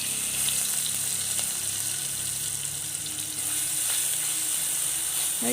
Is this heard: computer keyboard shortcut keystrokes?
no